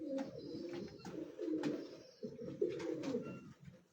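Pigeons cooing on a rooftop, soft low rolling coos repeating in overlapping phrases, close to the microphone and fairly quiet, with a few faint higher sounds in the background.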